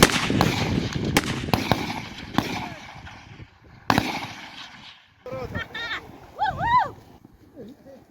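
Gunshots at a military shooting range, a series of sharp loud reports at irregular intervals, some in quick succession, followed by echoing decays and distant bursts near the end.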